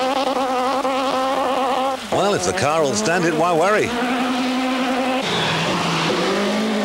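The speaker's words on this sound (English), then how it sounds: "right on the rev limiter" A Renault rally car on a special stage of the 1996 Bulldog Midland Rally holds a loud, buzzing engine note against the rev limiter, with stuttering rev drops, while a commentator talks over it.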